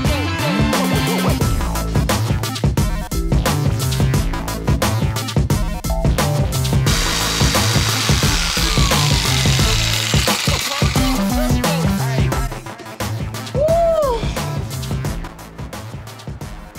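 Power saw cutting through wooden boards for a garden woodworking project, a loud continuous buzzing whine with recurring cut strokes that stays steady for most of the stretch, then briefly drops off before picking up again.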